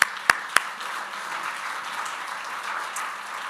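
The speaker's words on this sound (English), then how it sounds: "Really, another round of applause for them." Conference audience at a soil conference applauding, with a few sharp nearby claps at the start before a soft, even wash of clapping that continues to the end.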